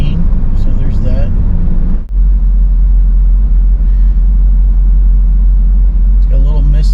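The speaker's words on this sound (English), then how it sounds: "It's got a little miss at idle, so it probably needs a tune-up." A car engine idles nearby with a slight miss, its steady low rumble running under ongoing talk, with a brief dip partway through.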